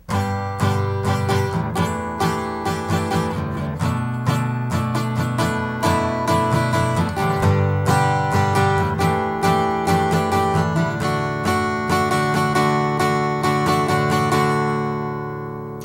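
Chords strummed on an acoustic guitar in a steady rhythmic pattern, played alone and close, with the final chord left to ring out.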